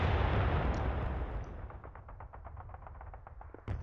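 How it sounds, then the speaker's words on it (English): Artillery fire in the Panzer Battles North Africa 1941 war game: a heavy boom opens the clip and its rumble fades away, followed by a quick series of faint rattling cracks and then a sharp hit at the end. "Fire at the infantry."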